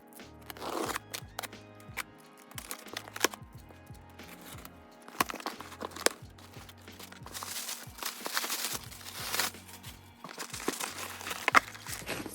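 A large cardboard shipping box full of albums is opened on a floor, with repeated crinkling, crunching and tearing of cardboard and packing material, scraping and rustling close by in irregular bursts, no talking.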